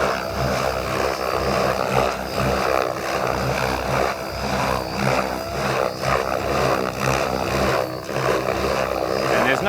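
An RC model helicopter flies aileron tictocs, its rotor and motor giving a loud, steady whine and buzz with rhythmic swells as the blades rock back and forth, heard alone.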